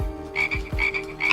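Frog croaks in the Sapo 3D video game: three or four low, rubbery croaks spaced irregularly over a steady tonal game background hum, loud and close, without talk.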